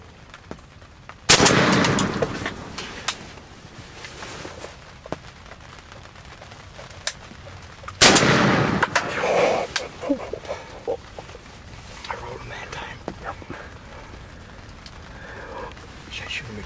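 Shotgun blasts during a spring turkey hunt: two sharp, loud reports several seconds apart, each followed by a brief echoing tail, with people talking quietly and small rustles and clicks in between.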